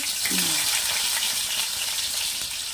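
Chopped onions frying in hot oil in a pan for a fish curry, a dense, steady sizzle and crackle heard up close, loud and continuous throughout.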